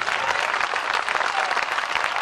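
Dense, energetic applause from a large audience at a Hindi heroic-verse poetry recital by poet Hariom Pawar, a continuous roar of clapping held at a steady loud level.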